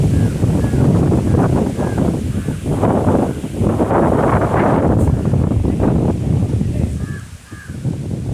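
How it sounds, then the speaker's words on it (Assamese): Strong gusting whirlwind during a dust storm outside a fire station, buffeting the microphone with a loud continuous roar and rustling leaves from an uprooted gulmohar tree, with faint crow calls nearby. "প্ৰচণ্ড ঘূৰ্ণি বতাহত আমাৰ এয়া কৃষ্ণচূড়া গছডাল উভালি পৰিলে।"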